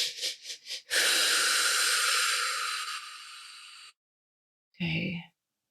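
A person breathes heavily: several quick sharp inhales, then a long loud forceful hissing exhale, a pause, and one more short rough breath, close up.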